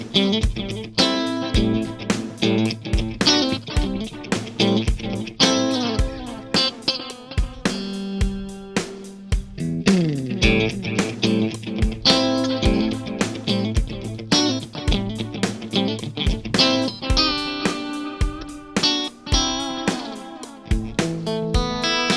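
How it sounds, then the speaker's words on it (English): Guitar played through a digital delay set to dotted eighth timing, rhythmic picked notes cascading into evenly spaced repeating echoes that form a steady, driving pulse throughout. "Now here's digital delay."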